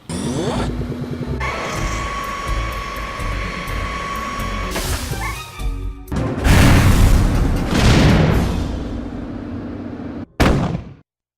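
Explosions and gunfire from a unit skirmish in the video game Military Madness: Nectaris, with droning tones, then loud booming blasts and crackling bursts that end abruptly.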